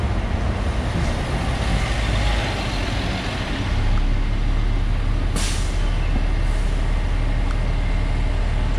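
A bus on Rua de Pequim in Macau, heard as a steady, loud street rumble of heavy engines with a brief air-brake hiss midway and no talking.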